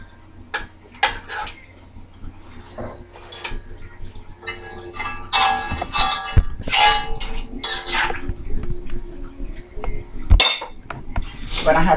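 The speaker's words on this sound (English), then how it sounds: "I mix everything up." Curry shark being mixed in a cooking pot, with irregular metallic clinks and scrapes of a utensil against the pot, some sharp and close, over low background noise.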